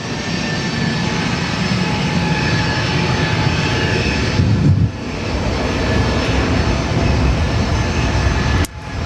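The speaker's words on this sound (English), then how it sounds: "And then Velocity will be taxiing onto the runway." A Virgin Australia airliner taxis at Gold Coast Airport, its jet engines producing a loud, steady roar and whine that dips briefly midway and again near the end.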